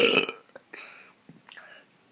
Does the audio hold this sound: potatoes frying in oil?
no